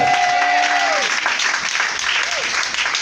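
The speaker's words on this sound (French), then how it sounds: "Acclamons très fort le Seigneur pour sa vie." A church congregation in Accra, Ghana claps loudly and steadily throughout, a dense wash of applause with crowd voices and a sustained tone mixed in.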